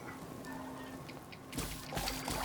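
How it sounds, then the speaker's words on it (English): Pouring, trickling water in Fallout 4, a steady wash that swells louder halfway through and runs alone without talk. "Oh, there's a lot of water here."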